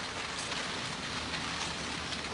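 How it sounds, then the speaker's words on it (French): Steady, dense rain falling and pattering on surfaces, an even hiss without pause throughout, fairly loud and close, with no voices. "Il va pleuvoir toute la journée."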